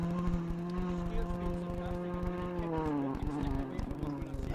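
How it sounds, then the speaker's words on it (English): Rally cars run a rally stage, one engine droning steadily, then rising in pitch and fading as it passes at a distance, with the rumble of wind or road underneath. "the sound of the rally cars are sounding well through the speakers this morning"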